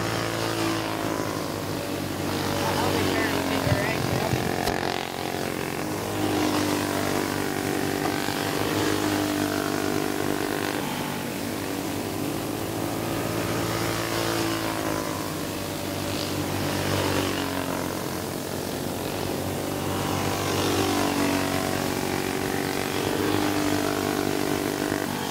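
Flathead 340 go-karts race on a dirt speedway, several small engines droning together in a steady buzzing roar that swells and fades as the pack circles past, continuous throughout.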